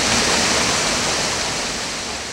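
Rushing creek water at Bandy Creek Falls in Big South Fork, Tennessee: a loud, steady wash of broadband noise with no pauses, heard up close and alone.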